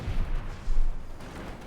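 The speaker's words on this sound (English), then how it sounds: "Mortar fire raining down" Mortar fire in Company of Heroes 2, a German armies match, with low distant thuds and rumbling impacts coming in two or three swells through a short stretch of battle noise.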